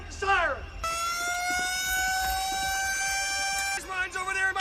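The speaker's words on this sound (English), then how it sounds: "Stop him with the siren!" A wailing siren from Apocalypse Now holds a long, steady tone for about three seconds, with voices shouting just before and after it.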